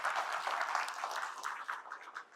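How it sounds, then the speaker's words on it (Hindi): An audience applauds at a lecture-style medical teaching session, a steady dense wash of clapping from many hands throughout, with no voices over it. "अपने लिए एक बार जोर से ताली बजाएं."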